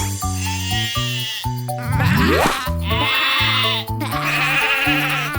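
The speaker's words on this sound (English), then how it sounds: "It's a sheep." Several loud, wavering sheep bleats in quick succession, close and clear, one rising into a sliding cry.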